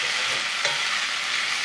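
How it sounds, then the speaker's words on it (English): Chinese long beans and potatoes fry in a sauce, giving a steady, close sizzle with a faint stir scrape partway through and no talking. "just give the beans time to fry and the potato time to soak up all those juices from the sauce"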